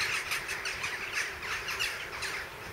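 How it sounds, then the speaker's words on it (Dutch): Crows caw repeatedly from a roost along a roadside at dusk, a dense, overlapping chorus of squawks that carries on without a break, with no voices. "langs de Huidrechtseweg zoeken kraaien een overnachtingsplaats."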